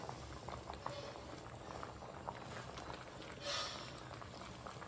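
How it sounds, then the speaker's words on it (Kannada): Saaru, a Kannada soup, simmers in a pot with a steady faint bubbling and occasional small pops, quiet and continuous. "ಇದು ಸಾರು ಕುದೀತಾ ಇದೆ"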